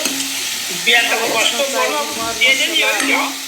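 Onions and potatoes frying in a pan while being stirred, a steady close sizzle with scraping stir strokes at intervals and no voices.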